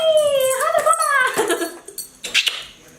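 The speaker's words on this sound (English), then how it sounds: "I don't like when you bark at the neighbors." A pet dog vocalises close by indoors, a drawn-out whining yelp sliding in pitch, followed by a few short, sharp bark-like bursts.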